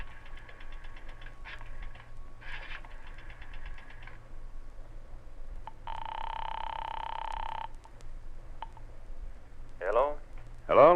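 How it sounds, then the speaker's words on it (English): On an old radio drama, a coin drops into a drugstore payphone slot. A steady dial tone follows, then clicks and whirs of the dial, all over a low background hum. "dropped a nickel in the slot, and dialed"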